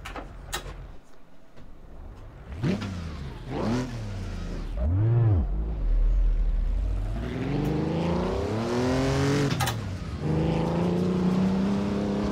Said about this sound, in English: What better way to try it now than on Targa Florio and a Mark II Jaguar in British Racing Green.